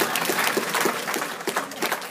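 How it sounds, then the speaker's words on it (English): Members of an audience clap with a light, uneven patter of several hand claps in a row, moderately close and heard alone without talk. "There were 2 claps into it and thought, oh, maybe I'm not supposed to applaud."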